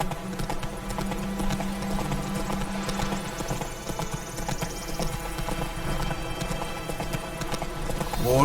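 Roach, the horse in The Witcher 3, gallops at a fast, even pace, hooves drumming steadily amid a full layer of in-game ambience and a faint high whine midway.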